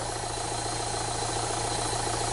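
A Land Rover Freelander diesel engine idles steadily, its low, even mechanical drone and slight knocking vibration holding at a constant level throughout, close and with no talk.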